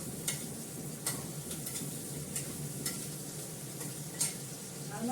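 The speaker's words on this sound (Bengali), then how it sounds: "আল মাছটা ভেজে নিই।" Fish frying in a pan gives a steady, fairly quiet sizzle with small crackles throughout, and a few sharp ticks and clicks break through at irregular intervals.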